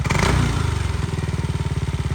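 A Yamaha NMAX 155 scooter with a full exhaust system idles close by, its rapid, even putter following a brief throttle blip at the start.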